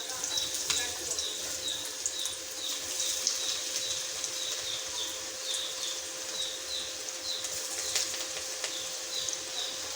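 Pumpkin pakoras deep frying in hot oil, a steady close bubbling sizzle with a faint background hum and scattered chirp-like ticks.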